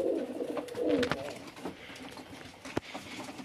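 Ornamental pigeons coo in a loft, soft repeated low calls close by with light rustling, wing flutters and a brief sharp knock near the end.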